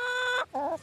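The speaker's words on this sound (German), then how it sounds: "Insgesamt 1600 Legehennen." A laying hen on an organic hazelnut plantation gives a close, loud, sustained cluck, then a short, wavering second call after a brief pause.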